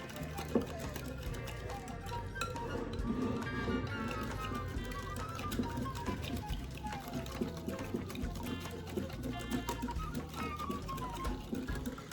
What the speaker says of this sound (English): So I'm gonna add a half a teaspoon of vanilla. And I'm gonna whisk this.